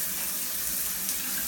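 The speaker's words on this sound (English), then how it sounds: "The water in the shower has been running for 10 minutes." Shower water running steadily from a showerhead in an apartment bathroom, a constant hissing spray that stays even and close throughout, with no voices.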